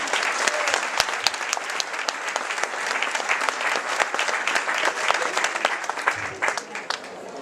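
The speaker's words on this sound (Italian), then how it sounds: "vi propongo un applauso perché siete veramente tantissimi" A large crowd applauds at a provincial Lega Nord party festival in Lonigo, a dense, sustained wash of clapping with sharper individual claps poking through, continuous throughout.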